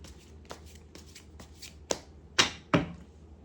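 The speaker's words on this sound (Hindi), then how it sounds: "जब तक मैं अपने कार्ड्स को शफल कर रही हूँ" Tarot cards being shuffled by hand, a run of soft crisp riffling bursts that grows into two louder, sharper shuffles near the end, close and alone with no talk.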